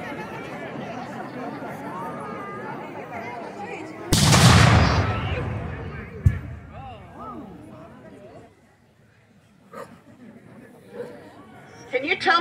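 A loud cannon blast at a War of 1812 battle reenactment in Jalapa, Indiana, a single sharp boom with a rumbling tail, heard against crowd chatter and outdoor talk.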